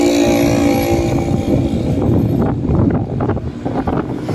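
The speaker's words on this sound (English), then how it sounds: "lots of wind today, that's for sure" Strong wind gusts across a national highway in Barrio Barretto, a heavy, steady roar buffeting the microphone with a low rumble throughout and no clear talk.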